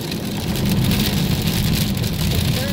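Heavy rain drums steadily on a surface close by, with a low engine rumble underneath, as if heard from inside a vehicle.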